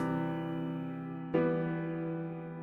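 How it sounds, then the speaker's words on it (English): A sustained synth tone in the FL Studio mixer with full stereo separation applied, with one re-struck note midway, then a slow, even decay, alone and fairly quiet. "And then full stereo separation sounds like this."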